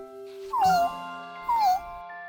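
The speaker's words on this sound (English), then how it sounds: "His job was to watch Professor Wiseman's new kitten, Lucky, who was too young to take care of himself." Two high, sliding cartoon kitten meows from the Curious George animated series, spaced about a second apart, clear and close over a soft sustained musical backdrop.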